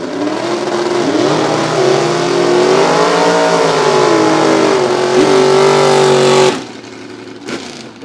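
A drag racing car with a 327 engine and a single four-barrel carburetor roars loudly at a track, its pitch climbing through shifts for several seconds before cutting off abruptly.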